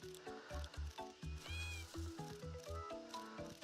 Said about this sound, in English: Every time you hear that meow, a cat is on its way.